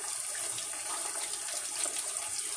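Hot oil bubbles and sizzles steadily while pork rinds (cracklins) fry, a dense, close, continuous crackling hiss with no pauses and no talking.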